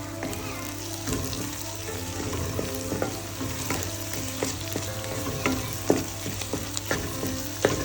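Chopped garlic fries in a pan for Kerala crab roast, a steady close hiss of oil with occasional stirring clinks and scrapes running throughout.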